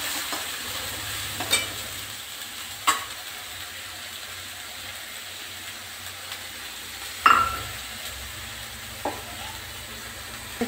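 Murala fish frying in oil with turmeric and salt makes a soft, continuous sizzle, broken by several sharp clinks and scrapes of a utensil stirring the pan, with no talking.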